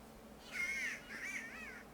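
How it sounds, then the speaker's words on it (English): Birds in the video game Kingdom Come: Deliverance give two harsh, crow-like cawing calls in quick succession, moderately loud over a quiet ambient background. "There's a quest with the huntsman about capturing those birds that are chirping like that."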